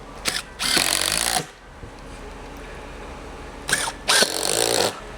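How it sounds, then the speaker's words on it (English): Power drill driving screws into a subwoofer baffle: two loud bursts of whirring, each a short rev followed by a longer steady run, separated by a quiet pause with low room noise. "I'll drill the rest of them out"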